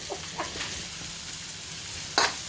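Onions frying in a pan for ginataang tilapia, a soft steady sizzle with a few light stirring scrapes and one brief louder burst near the end, heard alone without talk.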